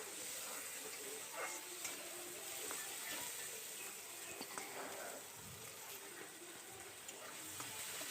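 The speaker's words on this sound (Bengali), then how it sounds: "এখন আমি আবার মটরশুঁটিগুলো ভালো করে নাড়াচাড়া দিয়ে পেঁয়াজের সাথে তেলের সাথে মিশিয়ে দেব।" Peas stirred with onions in hot oil in a pan, a faint continuous sizzle and hiss with scattered soft scraping clicks from the stirring.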